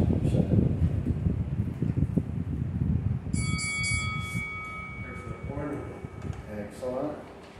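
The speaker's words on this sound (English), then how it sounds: "When that bell rings, as she rests" Workout interval timer bell during a core exercise session, a single bright electronic ring that sounds for about three seconds mid-clip over breathing and room noise, with voices talking around it.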